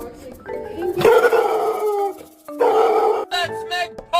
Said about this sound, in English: she usually barks like crazy.